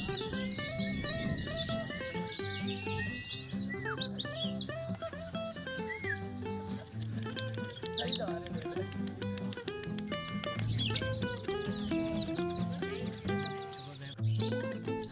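Many songbirds sing at once at a bird singing contest in Buleleng, Bali, a dense continuous chorus of trills, whistles and rapid chirps from several caged birds, with faint crowd voices mixed in.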